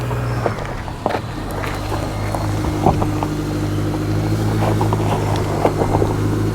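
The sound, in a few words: GMC Canyon AT4 truck wheels spinning on off-road obstacle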